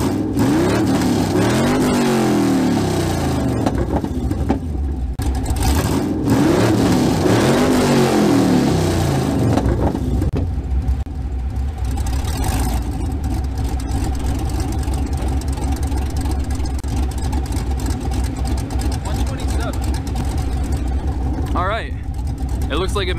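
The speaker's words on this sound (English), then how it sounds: "we'll see the peak decibel that the truck gets up to when I rev it." A GMC Sierra pickup with a stage 3 cam and open headers revs hard several times, its loud, rough engine climbing and falling in repeated bursts, then settling to a lumpy idle under occasional talk.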